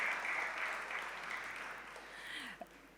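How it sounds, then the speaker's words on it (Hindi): Audience applause following a Nar Nari theatre performance in Ujjain, a moderate crowd clapping steadily for a few seconds and tapering off, with faint voices underneath. "एक बार खूब ज़ोरदार तालियां हमारे आज के दर्शक श्रोताओं के लिए।"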